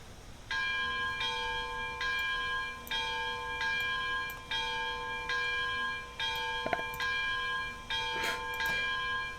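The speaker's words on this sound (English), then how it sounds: "Bell?" A locomotive's bell in the Railroads Online train game clangs in a steady, repeating rhythm, loud and close, with no talk over it.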